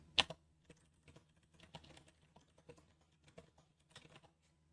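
Computer keyboard keys are tapped in an irregular stream while a terminal command is typed, one louder opening click followed by soft, close clicks and brief pauses in a quiet room.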